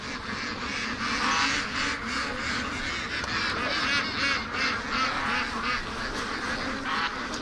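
Flock of ducks, Muscovy among them, being herded on a free-range farm: dense, continuous quacking and honking from many birds, loud and close, overlapping without pause throughout.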